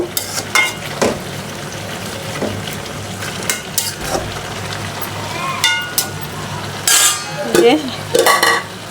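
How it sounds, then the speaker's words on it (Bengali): Leafy greens being turned and mixed in a pan for a low-oil home dish: repeated close scraping and clinking stir strokes over a soft, steady sizzle, with irregular spoon taps against the pan. "এখন আমি মা শাকগুলি দিয়ে নেড়ে চেড়ে একটু মিশিয়ে দেব"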